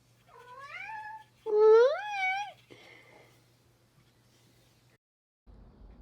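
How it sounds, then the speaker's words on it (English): A kitten gives a few high, rising meows close by, one louder and drawn out, then quiet with a faint rustle at the end. "My new kitten, Luna Moon, says hi, everybody."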